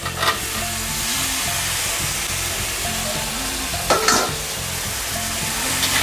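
Potatoes fry with onion, chili, tomato and capsicum in a pan, giving a constant loud sizzle broken by a few scraping stirs, close up and without voices.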